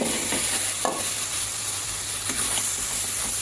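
Potatoes are stir-fried in a turmeric spice paste in a pan, giving a steady close sizzle and hiss with periodic scraping stirs throughout and no speech.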